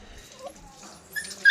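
A pet dog whimpering and yipping while being bathed with cool water, a few faint, high whines close by, with a sharper cry at the end.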